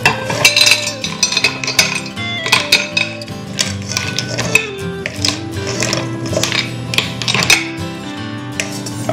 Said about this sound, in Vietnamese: Bây giờ Tiền sẽ cho ra cái đĩa.